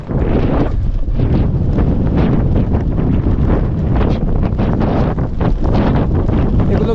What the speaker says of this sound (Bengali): আর সেই সাথে কি বাতাস